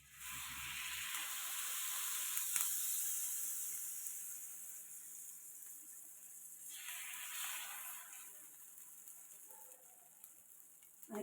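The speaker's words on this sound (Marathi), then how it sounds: "आता मस्तपैकी आपण तूप टाकून आपले ब्रेड सगळे फ्राय करूया." Bread slices for kachchi dabeli frying in ghee and butter on a griddle make a soft, steady hiss that swells and fades, fairly quiet and with no voices.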